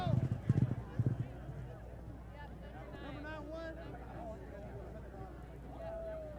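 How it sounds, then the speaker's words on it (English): Racehorses gallop toward the final furlong at the Virginia Gold Cup races, a brief burst of hoofbeats at the start, then the race continues under a race caller's rapid commentary. "Middle Road leads as they race into the final furlong."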